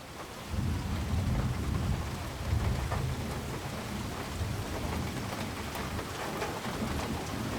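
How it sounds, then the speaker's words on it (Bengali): Heavy rain pours steadily with deep rolling thunder rumbling beneath it, a dense continuous wash of drops close by that swells slightly early on and persists to the end. "ততক্ষণে ঝমঝম করে বৃষ্টি নেমেছে।"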